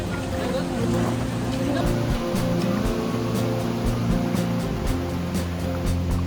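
A waterfall at the bottom of a long stairway, heard as a steady broadband roar of falling water, loud and continuous throughout, with people talking over it now and then.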